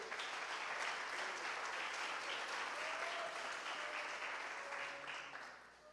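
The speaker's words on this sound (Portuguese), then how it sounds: "Aplauda Jesus" A church congregation applauds during a Portuguese-language sermon, steady broad clapping that fills the room for several seconds and then begins to thin out toward the end.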